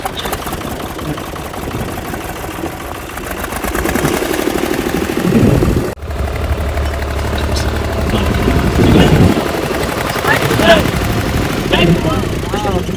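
A farm tractor engine runs steadily at close range while ploughing a field, a continuous low rumble with a brief cut near the middle, with talking and shouting voices over it.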